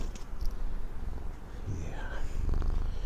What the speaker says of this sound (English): he's purring hard